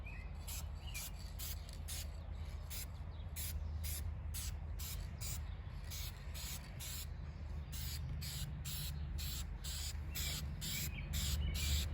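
Spray paint hisses from an aerosol can onto a car during a paint repair, in many short, rhythmic bursts repeating over a faint steady background, close and without talk.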